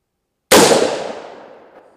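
A single loud .300 Blackout rifle shot cracks sharply from near silence, then rings out in a long, fading outdoor echo over about a second and a half at a shooting range.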